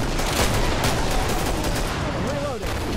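Rapid pistol fire in Killing Floor, a dense run of loud, close shots with no gaps, heard amid a busy, noisy game mix.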